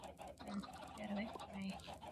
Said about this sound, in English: I have so many chickens in here.